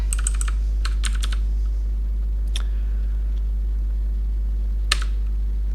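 Keys clatter on a computer keyboard while TeX code is entered, several quick bursts of clicks early on, then isolated single keystrokes over a steady low hum.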